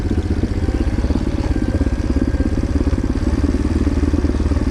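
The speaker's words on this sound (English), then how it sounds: "Old motorbike, first motorbike we ever had on the farm." An old farm motorbike rolling downhill on a farm track with the gears doing the braking, its engine chugging in a steady rapid pulse, loud and close throughout with no talking.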